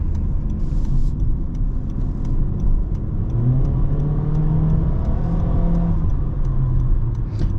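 A 2023 Honda HR-V in sport mode cruising on a highway, its engine and road noise a steady close hum inside the cabin, with a gentle rise in pitch as it picks up speed.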